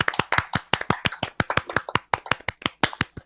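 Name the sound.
applause for YaldiTime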